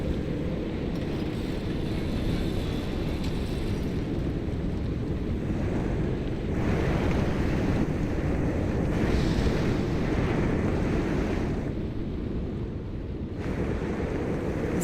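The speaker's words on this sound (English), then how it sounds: "It's a very noisy storm outside." Noisy storm wind in Pacific Drive, a constant heavy rushing roar that swells slightly midway and stays unbroken throughout.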